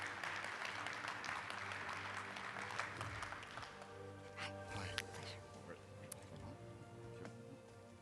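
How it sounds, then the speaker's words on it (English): A round-table panel audience claps steadily, the applause strongest at the start and tapering off, with a few scattered claps and murmurs near the end. "Please give him a round of applause."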